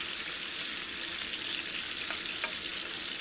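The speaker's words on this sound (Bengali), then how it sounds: "দেখুন চিংড়ি মাছটা ভাজা হয়ে গেছে" Prawns fry in hot oil in a pan while cooking prawn pulao, giving a steady close hiss and crackle that runs evenly throughout with a couple of faint clicks.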